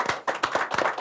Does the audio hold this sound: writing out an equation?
no